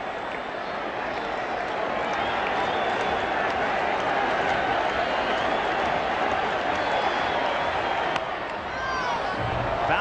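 A baseball stadium crowd at 1986 ALCS Game 5, Red Sox at Angels, makes a steady wash of distant murmur and scattered clapping, with a broadcaster talking over it.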